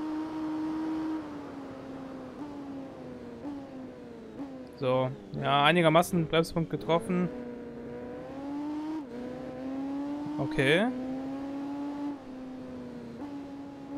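Motorcycle engine in the PS2 game Tourist Trophy, a steady droning whine that rises and dips with throttle and gear changes, running throughout beneath someone speaking German.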